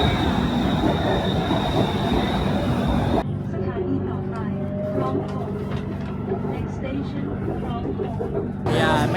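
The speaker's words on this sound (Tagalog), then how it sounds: "Sakay na kami ng metro." A Bangkok metro train rolls along with a steady rumble and squealing wheels, loud at first, then quieter and more enclosed, with people talking over the noise.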